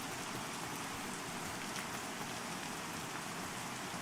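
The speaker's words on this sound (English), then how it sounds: "the glorious sounds of rain and the denizens of Demeth" Steady, even rainfall in the online game Pantheon, a dense hiss of drops on surfaces that holds at a constant, moderate level with no voices.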